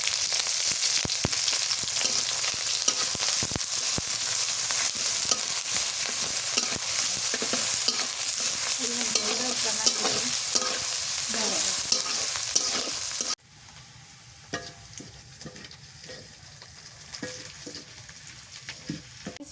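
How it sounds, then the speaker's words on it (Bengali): Chopped onions and green chillies frying in a pan while fish is being cooked, a steady loud sizzle with stirring scrapes that drops to a quieter crackle partway through, no talking. "পেঁয়াজ ভাজা হয়ে গেছে"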